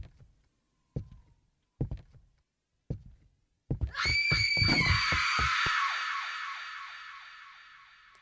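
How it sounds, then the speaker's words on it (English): A horror video game delivers a shrill, sustained scream that swells suddenly after a series of sharp, evenly spaced thuds, then rings on and slowly fades over several seconds. "That scream do be haunting"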